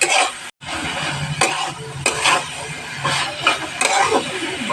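Soybean chunks and potatoes being stir-fried with spices in a pan for soya curry, with repeated scraping stirs and clatter of a spatula against metal over a low sizzle, close and fairly loud.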